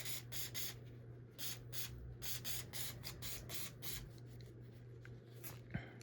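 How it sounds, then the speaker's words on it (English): Repeated short bursts of aerosol spray hitting a rifle suppressor with a combined cleaner-and-oil product, a quick rhythmic series of close hisses with brief gaps between them, followed by a faint clink. "I'm gonna spray it."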